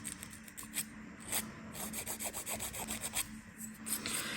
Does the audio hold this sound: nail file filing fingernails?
yes